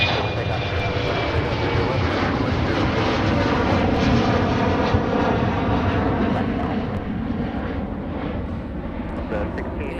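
A fixed-wing airliner roars down runway 30 left on takeoff at Minneapolis-St Paul airport on a windy day, a loud, sustained engine rumble with a steady whine that holds throughout.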